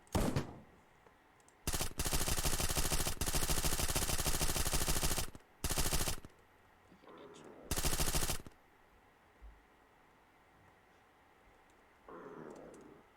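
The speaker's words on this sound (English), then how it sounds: "SMG." Submachine gun fire in a video game: long, loud bursts of rapid automatic shots, a shorter burst and another burst, with quiet gaps of faint background noise between them.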